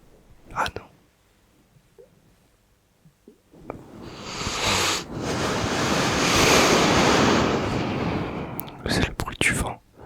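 A breathy imitation of wind with falling water for ASMR: after a few soft mouth clicks, a voice blows a steady hissing rush that swells for several seconds, close to the microphone, then breaks into crisp taps.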